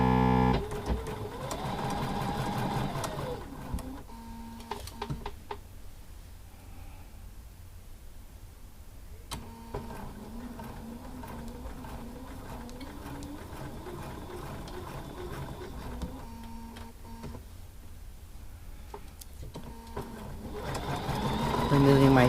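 A sewing machine with its dual feed engaged stitches a small scrap of fabric, a steady mechanical whir running for most of the stretch, with brief pauses and a voice talking over it at the start and end.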